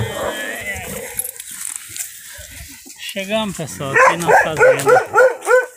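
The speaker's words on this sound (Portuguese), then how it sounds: "Nosso cachorro." A farm dog barks repeatedly at close range, a quick run of loud, evenly spaced barks in the second half after someone speaks Portuguese over background noise.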